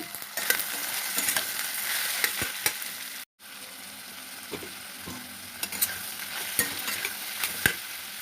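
Whole onions frying in a pan, steady close sizzle punctuated by sharp spatula scrapes and clacks, with a brief drop to silence partway through before the frying resumes.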